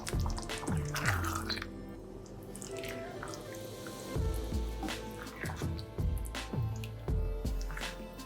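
Mushroom sauce simmering in a pan around meat patties, a continuous close bubbling and popping with irregular wet drips under faint kitchen background.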